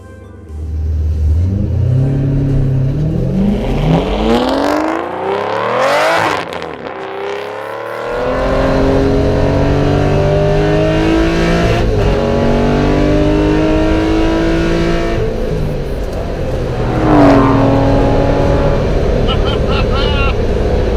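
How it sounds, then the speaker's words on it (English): Aston Martin GT12 racing car driving through town, its loud engine revving up through the gears and holding a steady roar with a brief dip partway through, close by and constant. "Through town in a racing car."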